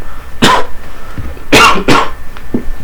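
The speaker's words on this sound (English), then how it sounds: "I still have a cough" Several sharp coughs, close and loud: a single cough, then a quick pair a second later, and a faint short one at the end.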